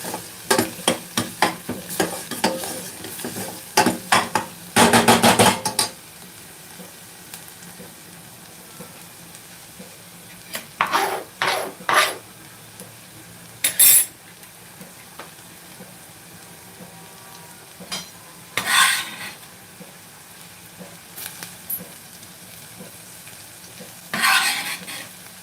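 Coriander leaves fry and get stirred in butter in a pan, giving a soft steady sizzle under scattered scraping stirs and a few louder bursts of utensil clatter, with no voices.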